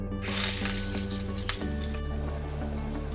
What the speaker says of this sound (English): Once the oil heats up, we're going to saute some finely chopped onions.